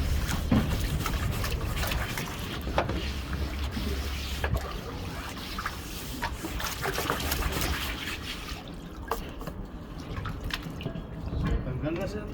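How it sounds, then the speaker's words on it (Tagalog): A turtle cage is scrubbed with a brush and water, giving continuous dripping, trickling and splashing with scattered scrubbing clicks, while someone talks over it. "I-brush muna natin na may tubig."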